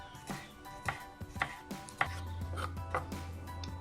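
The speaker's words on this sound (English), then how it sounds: "the garlic we're going to slice. Just very thin slices," A knife slices garlic cloves as thinly as possible on a cutting board: about eight crisp, close cuts in a steady, unhurried rhythm, with a low steady hum joining partway through.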